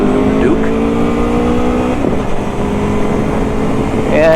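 A 2021 Aprilia Tuono motorcycle pulls away, its engine a loud close drone that rises in pitch as it gains speed, with wind noise throughout.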